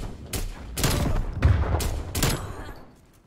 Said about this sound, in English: I'm gonna call this napalm in.